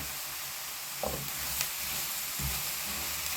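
Tomatoes sizzle and fry in a pan while fish stew cooks, a steady close hiss with a few soft stirring knocks, and no talk.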